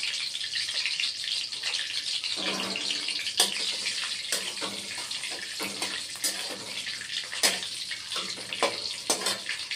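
Nigella seeds, a dried red chili and a bay leaf sizzle steadily in hot oil in a home kitchen, a continuous hissing crackle with scattered sharp pops and clinks, close and fairly loud, no talking.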